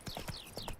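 Hoofbeats of Roach, Geralt's horse in The Witcher Wild Hunt, clip-clopping in a steady trotting rhythm, fairly close, with a snort or whinny-like tone over the footfalls and no speech.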